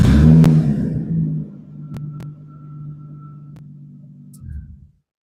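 An MR6 engine with the clutch pressed to the floor cranks and catches with a loud burst, then settles into a steady idle that cuts off abruptly.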